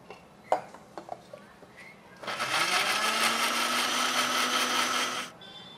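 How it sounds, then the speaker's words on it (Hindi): A few light clicks and taps, then a loud, steady whirring grind of a mixer grinder blending chopped beetroot with a little water for about three seconds before it cuts off. "बीटरूट को हम इस तरह से काट करके मिक्सी के जार में डाल देंगे"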